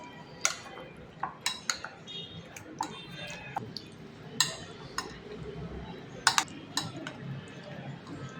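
A spoon stirs dahi baingan, yogurt with eggplant, in a metal pot, giving a steady run of light clinks and scrapes every half second or so over a soft, low kitchen hum.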